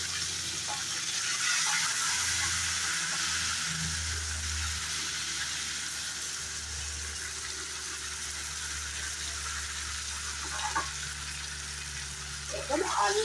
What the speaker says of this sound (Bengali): এখন আলুর সাথে টমেটো আর কাঁচা লঙ্কাটা খুব সুন্দর করে ফ্রাই করে নেব